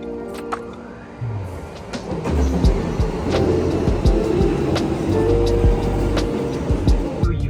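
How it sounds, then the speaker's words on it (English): A train rumbles into a station in Japan nearby, a low mechanical roar building and holding steady with scattered clanks and squeals, no talking. "I think there's one coming now. It should be our train."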